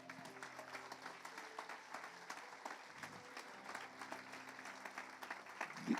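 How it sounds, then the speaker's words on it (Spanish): Congregation applauding during a church service, a steady wash of many hands clapping for several seconds, somewhat distant and soft, with a low sustained tone from instruments beneath. "Dale un aplauso al Señor."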